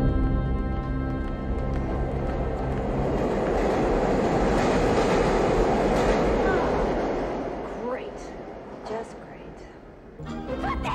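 A subway metro train in a Teenage Mutant Ninja Turtles film scene rumbles loudly and steadily past, then its roar fades and a few squealing wheel and clacking sounds come in near the end.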